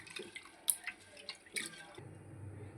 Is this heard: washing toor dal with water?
yes